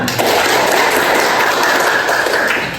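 A class audience breaks into applause, a dense, loud, steady clapping that carries on throughout.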